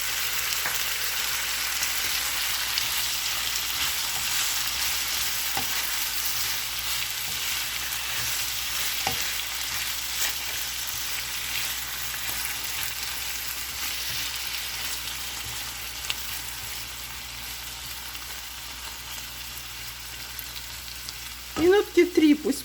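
Vegetables and chopped tomatoes stewing in a pan for a chicken liver sauce, a continuous soft sizzle and hiss that holds steady, with a few faint clinks and utensil scrapes near the end.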